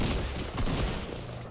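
Distant gunfire in a video game, a battle-royale-style match with players up on a mountain, comes as a dense crackling fusillade of overlapping shots. It is steady and fairly loud throughout, with no talking.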